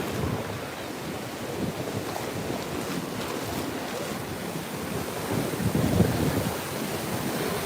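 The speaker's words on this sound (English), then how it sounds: "Look at these waves." Ocean surf breaks and washes continuously onto a beach, a steady broadband roar with a slight swell near the end, buffeted by wind noise on the microphone and with no voices.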